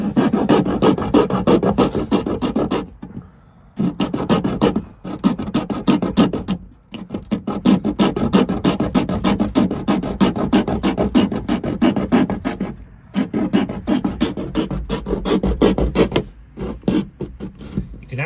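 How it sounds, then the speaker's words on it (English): Hacksaw blade cutting into the metal speaker hole of a 1992 Subaru Sambar door, a close, raspy back-and-forth scraping in long steady runs broken by short pauses, with no talking. "take a hacksaw blade and make some cuts."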